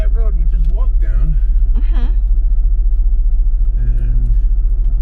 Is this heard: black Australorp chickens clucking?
no